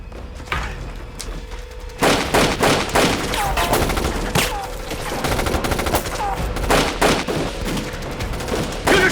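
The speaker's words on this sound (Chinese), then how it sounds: "有人射击！" Heavy gunfire erupts in a battle scene, rapid volleys and bursts of shots booming loud and dense after a brief quieter opening, continuing without pause.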